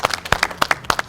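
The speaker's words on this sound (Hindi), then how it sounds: "इस बात पे ताली होनी चाहिए" Studio audience clapping on an Eid special program, a short burst of claps in an irregular rhythm, close and fairly loud, with no talk over it.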